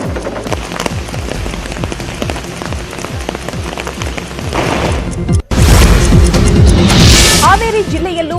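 Torrential monsoon rain with thunder in Haveri district, Karnataka, a loud steady roar of downpour with low rumbling booms beneath, briefly cut and then resuming even more intensely.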